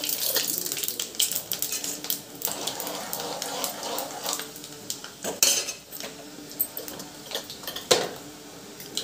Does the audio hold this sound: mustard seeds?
yes